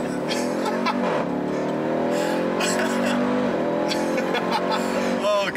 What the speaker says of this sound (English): sport mode, launch, apply brake pressure, full throttle.